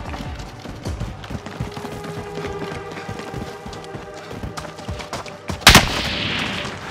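Video game battle-royale gunfire: scattered distant shots crackle through steady rapid thumping movement, then a sudden loud close burst of fire followed by a noisy hiss.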